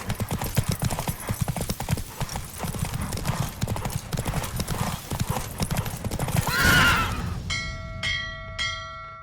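Roach the horse in The Witcher 3 video game galloping hard in a race, a rapid steady clip-clop of hooves throughout, rising into a whinny near the end before bell-like chimes ring out.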